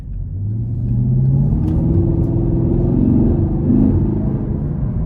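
A 2023 Chevrolet Camaro 1SS 1LE with a 6.2-litre engine rumbles low and steady, revving up slightly as it drives, a deep throaty hum that swells and holds close by.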